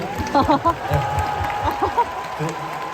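Crowd applause at a K-pop concert, a steady wash of clapping running under a person talking, with a few brief cheers rising above it.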